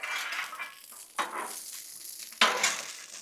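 Frozen french fries dropped onto a hot Blackstone flat-top griddle, hissing and sizzling steadily with sharp bursts as more land or get pushed with a spatula, close and without speech.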